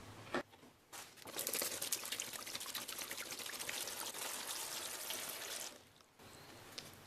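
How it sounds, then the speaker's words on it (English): Water pours steadily into a homemade air cooler holding ice, a continuous close splashing rush lasting several seconds, with a brief clatter at the start and the flow stopping near the end. "now we're gonna add the water"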